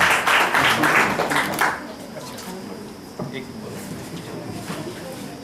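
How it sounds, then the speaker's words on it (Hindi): Audience applause breaks out at a ceremony for International Girl Child Day, a brief dense burst of clapping at the start that fades as someone speaks over it. "आप सबकी जोरदार तालियां, आपकी तालियां ही सम्मान और शुभकामनाएं हैं"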